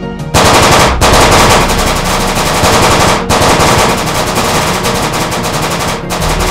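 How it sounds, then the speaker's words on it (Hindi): Cartoon officers fire guns at a robot dinosaur: loud, dense automatic gunfire rattling almost without pause, broken by two brief gaps. "वह सभी ऑफिसर्स उस रोबोट पर जोरदार फायरिंग करना शुरू कर देते हैं"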